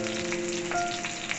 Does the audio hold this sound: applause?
no